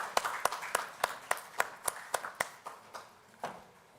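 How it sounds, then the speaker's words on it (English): A sparse audience at a soil health conclave claps, about a dozen distinct sharp claps in an irregular rhythm that thin out and fade, sounding like only a few pairs of hands in a quiet hall. "Let's have a big round of applause"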